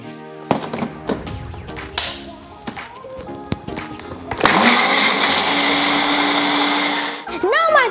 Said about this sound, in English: I'm going to blend it up.